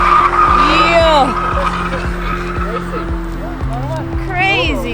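A car speeds along a road near Antalya, Turkey, its tires skidding and squealing in repeated bursts over a steady engine drone, loud and close, with people exclaiming in the background.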